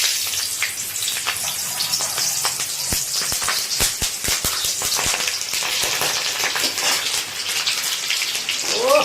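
Green chillies frying in a pan alongside soybean, potato and onion give a steady, dense sizzle throughout, broken by sharper pops and crackles, with faint talk underneath.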